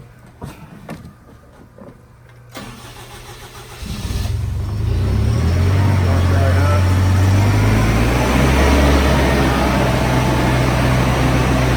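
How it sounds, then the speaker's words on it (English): Advance CS7000 floor scrubber, refurbished, with its engine cranking and catching at about four seconds, then settling into a loud, steady running drone that continues unbroken. Quiet handling noises come before the start. "But we will start the engine."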